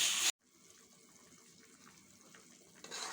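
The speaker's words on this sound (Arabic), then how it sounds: "حطيت لها حبه ميه" Water runs in a thin stream into a cooking pot of tomato sauce, a soft steady trickle for a few seconds after a brief loud burst at the start, rising again at the end.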